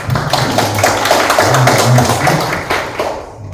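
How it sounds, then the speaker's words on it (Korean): Applause from a church congregation at a campus worship service, a dense, loud, steady patter of many hands clapping that tapers off toward the end, with no voice over it. "박수 한번."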